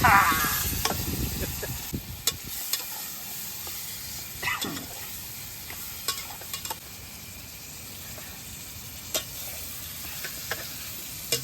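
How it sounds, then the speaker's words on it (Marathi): Spices sizzle in a hot pan as tempering for chicken biryani at an outdoor jungle cooking camp, a steady moderate fry crackle with a spoon stirring and scraping now and then. "जबरदस्त असा तडका बसलेला आहे"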